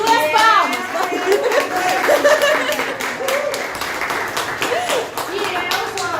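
An audience claps together in a sustained, fairly loud burst at a women's health panel event, with children's voices and chatter mixed into the steady patter.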